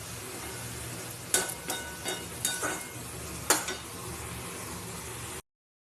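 Papaya pieces sautéing in oil for a catfish curry give a low, steady sizzle broken by a few sharp spoon or spatula scrapes against the pan, fairly quiet and with no talking.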